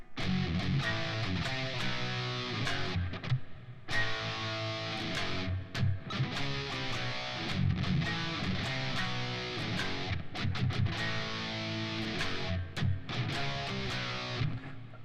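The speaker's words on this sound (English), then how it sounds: "now they changed the feel a little bit with this kind of cool little groove riff" Heavy distorted electric guitar churns through a groove riff, choppy power-chord bursts broken by short gaps, loud and continuous without any talking.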